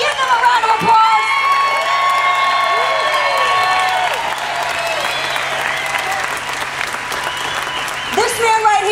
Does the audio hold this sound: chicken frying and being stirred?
no